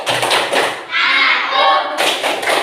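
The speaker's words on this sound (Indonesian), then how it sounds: "kita tepuk anak soleha dulu" Children and a teacher doing the rhythmic 'pious child' clap chant in an Indonesian classroom, sharp group claps and thuds in patterned bursts mixed with children's chanting voices, loud and close.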